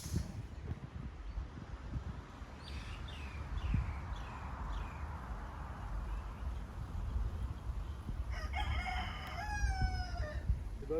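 A rooster crows twice on a palm-lined golf course in Polynesia, fairly distant over steady wind and outdoor rumble. The first crow is a drawn-out series of calls, and a second, brighter crow follows near the end.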